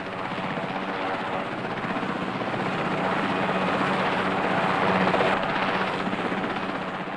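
A military helicopter's rotor beats steadily and loudly throughout, a dense continuous thrum with no pauses, in the Falkland Islands.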